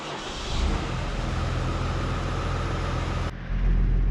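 A tractor engine runs with a forage harvester hooked up, rising to a loud steady drone, briefly dropping near the end before roaring back heavier and lower.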